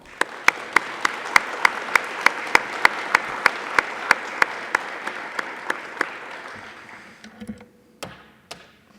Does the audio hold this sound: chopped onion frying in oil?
no